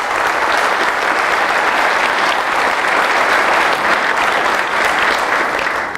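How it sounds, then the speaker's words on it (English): A large audience claps loudly and steadily for service award recipients at a recognition ceremony, a thick, even wall of applause that holds for six seconds before cutting off. "Let's give a final round of applause for all of our Service Award recipients."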